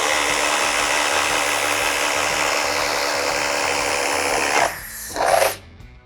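A DeWALT quiet impact driver on speed 2 with a 2 Ah POWERSTACK battery bores a 1-inch spade bit into wood, giving a loud, continuous close-up whine that falters and surges briefly before stopping.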